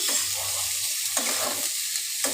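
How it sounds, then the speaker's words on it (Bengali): Potato and broccoli pieces coated in spices fry in a pan, a close and loud steady sizzle broken by a few sharp scrapes of stirring, with no talk. "আলুর সাথে ব্রোকলির সাথে ভালো করে মশলাটাকে মাখিয়ে নিচ্ছি"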